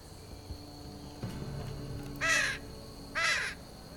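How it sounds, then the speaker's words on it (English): Crows caw twice in Telltale's Game of Thrones game, two harsh, evenly spaced calls about a second apart, clear and fairly close above a faint, quiet background. "Okay, the crows."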